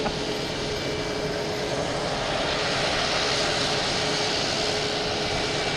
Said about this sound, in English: coming in with JetBlue from Dallas Fort Worth, an A220.